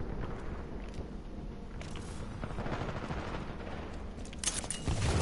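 Gunfire in the video game Titanfall 2: dense, continuous bursts of automatic weapon fire with overlapping impacts, loud throughout and building toward the end, with no talking.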